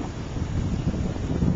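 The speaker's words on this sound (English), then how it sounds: "the wind's blowing about 35 miles an hour here" Strong wind of about 35 mph buffets the microphone beside a ferry boat docking at Millersburg, PA, making a steady, loud, low rumbling roar with gusty swells that runs unbroken throughout.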